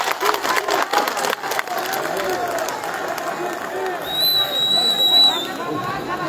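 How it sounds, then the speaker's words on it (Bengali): A large crowd at a political rally in the Pabna-3 constituency breaks into loud, dense clapping. The applause fades into a steady murmur of chatter and cheering, with a thin high whistle near the end. "আমরা করতালি দিয়ে তাদেরকে অভিনন্দন জানাই। এই করতালি দেন।"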